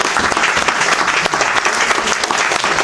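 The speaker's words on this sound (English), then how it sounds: "I'm not used to clapping in between poems." A roomful of people at a poetry reading clapping warmly between poems, loud and continuous for a few seconds, with no talking over it.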